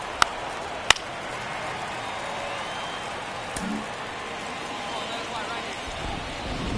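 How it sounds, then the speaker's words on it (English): Steady rainfall in the MLB The Show 24 baseball video game, a constant even hiss of rain throughout with a few sharp clicks near the start. "It feels like we might be headed towards a rain delay if the weather doesn't ease up, Chris."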